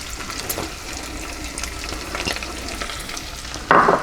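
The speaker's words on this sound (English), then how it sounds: "So we're going to go ahead and put the onions in" Onions sizzle while being stirred in a pot as the start of a clam chowder, with steady soft frying and scraping strokes and a louder splash of sizzle near the end. No voices are heard.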